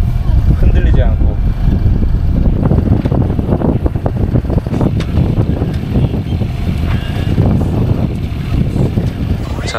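A ship crossing the Strait of Malacca at sea, a loud steady rumble of engine and hull mixed with heavy wind buffeting the microphone, continuous throughout, with a person talking over it.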